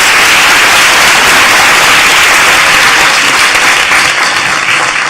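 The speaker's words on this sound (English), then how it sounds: "can we just have a round of applause for the panelists?" Loud, dense audience applause for conference panelists at an academic plenary session, a steady wash of many hands clapping that holds throughout, with no talking over it.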